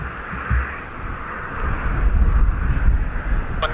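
Airplane at Dublin Airport on runway 28, a rumbling jet roar that builds in loudness from a distance, with wind noise buffeting the microphone.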